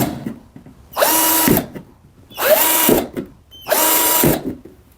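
Three loud, close bursts of a power drill boring holes in a plant pot, each whining for about a second with a rising then falling pitch, separated by short quiet gaps.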